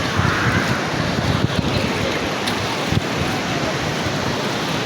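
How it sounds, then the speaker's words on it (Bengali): Sea waves rolling onto the beach at Cox's Bazar, a steady broadband roar of surf mixed with gusty wind buffeting the microphone, continuous and close throughout. "দেখেন দেখেন সমুদ্রের ঢেউ"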